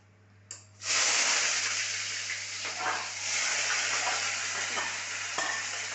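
Onion and green chili tipped into hot oil in a pan, a sudden loud burst of sizzling that settles into a steady broad frying hiss over a low hum, close by and without talk.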